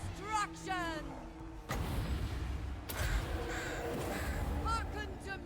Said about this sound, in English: More birds! Destruction!